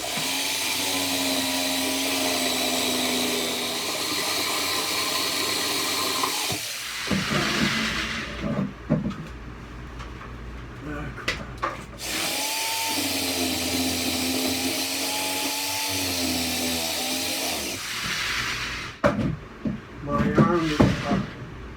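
A jigsaw cuts across a board during demolition work, running in two long, steady, loud buzzing stretches of several seconds each, separated by pauses filled with rustling and knocking.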